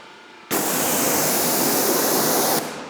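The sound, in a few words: water spray rinsing a car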